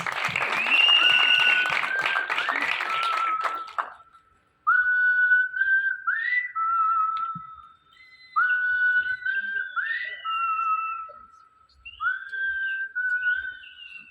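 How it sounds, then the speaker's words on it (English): Audience at a film trailer launch in Mumbai cheers with loud applause and piercing whistles; clapping dominates the first few seconds, then repeated sharp rising whistles ring out in bursts over fading claps. "Big round of applause."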